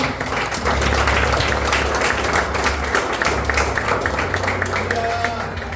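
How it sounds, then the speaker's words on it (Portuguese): A church conference audience claps hard and continuously after a prayer, a loud sustained patter with voices and a low hum mixed in underneath. "E as palmas bem fortes do Senhor."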